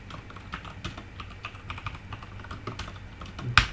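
Steady fast typing on a computer keyboard, with a continuous patter of light, quiet key clicks and one sharper clack near the end. The typing is heard alone, with no one speaking.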